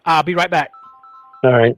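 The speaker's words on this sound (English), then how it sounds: "Oh, that's my phone." A phone's electronic ringtone sounds in a short tonal burst between two stretches of someone talking.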